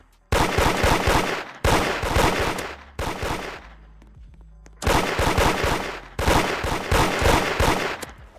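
Revolver shots fire in rapid bursts in the Roblox game Da Hood: five loud strings of quick cracks separated by short pauses, with no talking.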